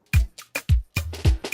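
Equalized kick drum punching through an Afro gospel highlife instrumental mix, a short run of deep, heavy thumps with crisp percussion and a bass note on top, loud with no talking.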